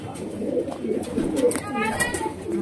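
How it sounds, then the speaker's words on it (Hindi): Cooing from a flock of about 160 pigeons, many marked with color, in a loft or coop; a soft, continuous murmur of overlapping coos with some chirping. "बहुत सारे कबूतर है फयाज भाई के पास आए, 160 कबूतर आए और आधे से ज्यादा तो सबको कलर लगे हुए"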